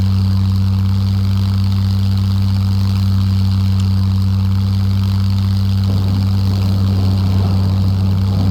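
Steady low engine drone of a plane rolling down the runway for takeoff in the survival game SCUM, loud and continuous, with a slight rise in texture toward the end.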